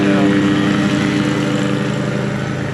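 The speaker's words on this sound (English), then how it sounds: "excuse the noise, we got Big John out there mowing" A lawn mower runs outside at a steady drone, loud and continuous with a constant engine hum and no breaks, the mowing heard from indoors nearby.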